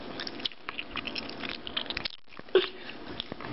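Vitamins being chewed close to the mouth, a run of small crunchy bites and wet chewing clicks with a brief pause before a sharper crunch.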